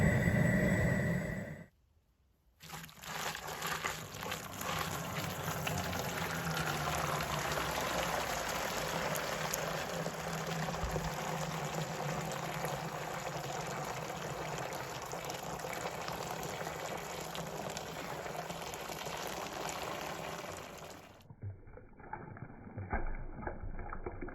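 Maple sap boils hard in an evaporator during a late-season syrup boil, a steady close roiling bubbling and rushing that holds for about twenty seconds, broken by a brief drop near the start and ending abruptly into quiet.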